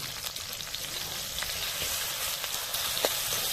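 Ground masala of cumin, coriander and mustard with onion and green chili frying in a pan, a dense, steady close sizzle with faint stirring scrapes and no voices.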